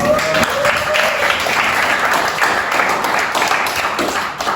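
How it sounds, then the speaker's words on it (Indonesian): Students in a classroom break into a burst of applause, many hands clapping at once in a dense, even patter that carries on loudly for several seconds before easing off at the end. "Tepuk tangan sekali lagi."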